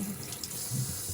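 Cold water runs from a tap into a sink in a steady, close splashing stream, alone with no talking.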